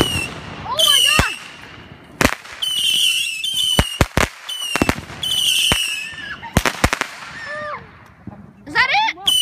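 Fireworks burst in the air with a string of sharp bangs and crackles, some shells whistling as they rise. People nearby cheer and exclaim between the blasts.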